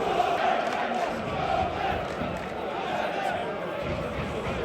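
Pompey football fans at a stadium make a distant, continuous roar of crowd noise and chanting during a match, a broad steady wash without distinct claps or voices standing out.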